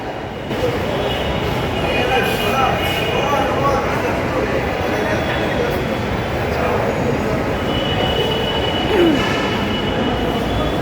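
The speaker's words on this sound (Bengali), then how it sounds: "রেল ট্রেন চলে আসবে" A Dhaka metro rail train rumbles into the station with rising rail noise and a brief wheel squeal, voices talking over the steady roar.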